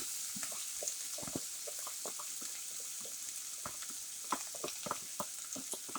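Chopped onion sizzling in a frying pan while cooking supper, a steady low hiss of frying with scattered crackles and pops, fairly quiet and close, with no talking.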